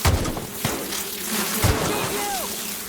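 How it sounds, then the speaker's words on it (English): A swarm of Mantipillar mantises in The Outer Worlds, heard as a steady insect-like buzzing hum with a couple of thudding impacts and a few brief whistling chirps, fairly close. "Is that a hive of them? A mantis swarm?"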